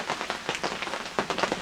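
Heavy rain pours down at a lakeside campsite near a greenhouse, a dense, steady close hiss of drops with irregular louder splatters and no voices.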